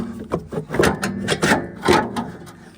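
A motor mount is twisted up and out of a Toyota engine bay during transmission removal, giving a few close scraping, knocking and rubbing metal sounds in quick bursts, with no talking.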